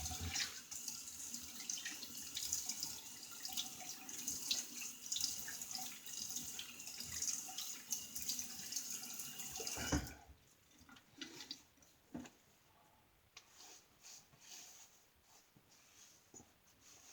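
A bathroom tap runs steadily for about ten seconds to rinse a Gillette Psycho Tech razor and a face, then shuts off, leaving quieter drips and small splashes.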